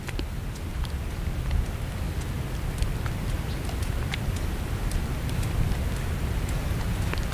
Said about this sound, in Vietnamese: Mưa luôn.